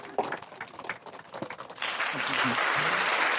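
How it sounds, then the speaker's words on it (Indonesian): An audience at a Hajj and Umrah gathering breaks into applause, a dense, steady burst of clapping that starts partway through and continues to the end, following someone speaking. "Cukup boleh berikan tepuk tangan dulu."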